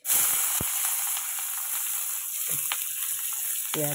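Onion, chilli and whole garlic cloves frying in hot oil, a steady close sizzle with a few sharp clicks and crackles, no voices.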